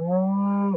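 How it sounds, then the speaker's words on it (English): A cow on a farm where young calves are kept gives one loud, close moo on a Sunday morning, a steady low drawn-out call that ends abruptly, with no other sounds. "That cow's going to moo."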